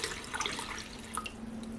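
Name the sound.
water poured onto forbidden rice in Dash mini rice cooker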